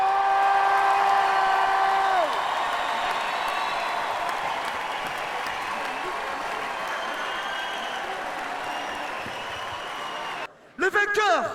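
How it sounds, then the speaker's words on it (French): Audience applause for the breakdance crew Phase T at the Battle of the Year France 2009 event, a broad steady wash of clapping that fades gradually, with music tones at the start and a brief voice near the end. "on applaudit pour le crew Phase T"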